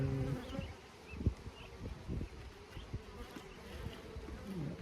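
A swarm of honeybees drones steadily around a hive in Brownsburg, a dense, continuous buzz with individual bees passing close by now and then, with no talking.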